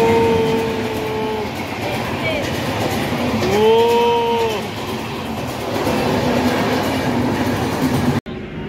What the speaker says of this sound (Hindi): तो हाँ ट्रेन आ रहा है